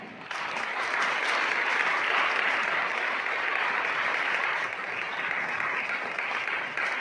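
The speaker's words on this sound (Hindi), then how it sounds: "आगे बढ़ते हम तालियों से धन्यवाद।" A church congregation applauds together during a Baptist worship service, steady dense clapping filling the room for about seven seconds at a loud, even level.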